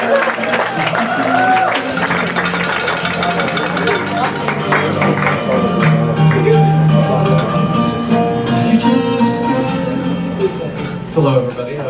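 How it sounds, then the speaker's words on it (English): An audience applauds a pitch presenter at a small business pitch event, steady clapping filling most of the stretch before thinning out toward the end. "Please give a loud round of applause for Christopher of Atomic Universe."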